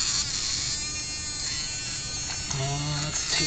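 Small slot car motor fitted with a sprocket whirs steadily on a test bench at 14.8 volts, a continuous high-pitched buzz close to the microphone, with a brief rising tone near the end.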